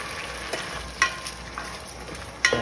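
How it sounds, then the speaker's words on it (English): Beef and vegetables stir-fry in oil in a small pan, a soft steady sizzle with a few sharp clinks and stirring scrapes, close and alone. "wait till this comes to a fry, because it's really small, it's going to take 5 minutes to cook"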